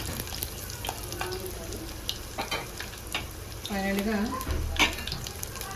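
Spices and curry leaves crackle and sizzle steadily in hot oil in a pan, with occasional stirring clinks and a brief spoken word.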